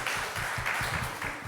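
An audience claps for Pastor Lee Jin-young at a joint Korean-Japanese church retreat lecture, a steady, dense patter of applause at moderate volume with no speech over it.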